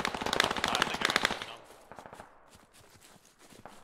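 Rapid bursts of automatic gunfire in the military shooter game Squad, loud and close for about a second and a half, then fading into quieter, more distant shots.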